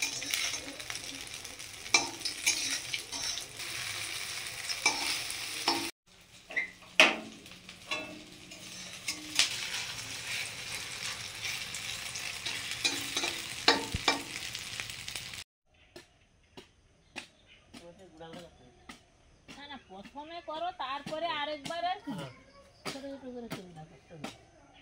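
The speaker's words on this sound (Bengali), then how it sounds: "ডিম আলু ভাজা করছি" Eggs and potatoes fry in a pan with a broadband sizzle and scraping stirs for the first fifteen seconds, followed by a quieter stretch with clicks and a voice talking.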